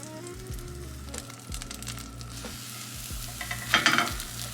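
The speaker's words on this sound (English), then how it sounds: "I'm gonna toast this in the pan with a little bit of dairy-free butter." Food toasting in a pan with dairy-free butter, a steady soft sizzle with occasional scraping stirs and a louder crackling burst near the end, no talk.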